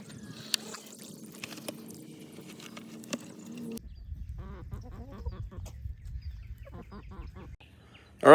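Chickens peck and scratch through fermented feed dumped on the ground, giving soft scattered taps and rustles with faint fowl calls, fairly quiet, ending in a sudden loud burst.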